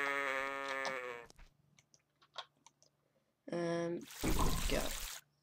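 A Minecraft sheep bleats in a couple of short, bright, wavering calls separated by quiet gaps and small clicks, ending in a burst of noisy rustle.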